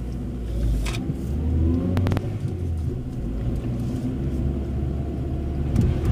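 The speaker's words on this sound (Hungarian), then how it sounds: "indulhat a következő autó" A car pulls away on a circular driving-technique course at a Hungarian driving camp, its engine revving and rumbling steadily throughout, close and fairly loud, with no talk.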